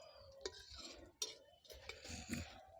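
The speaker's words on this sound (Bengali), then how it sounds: "এখন একটু নেড়ে চেড়ে নেব।" Cumin and black cardamom stirred in a frying pan: faint, sparse clicks and light scrapes of a spatula against the pan, quiet and irregular, with no voices.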